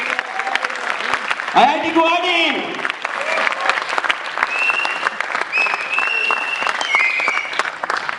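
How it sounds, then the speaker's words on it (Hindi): A college audience at IIT Guwahati claps thunderously and steadily at a poetry event. Someone speaks over the applause through an amplified microphone, with whistles and cheers mixed into the crowd noise. "कि एक बार जोरदार तालियां हो जाए"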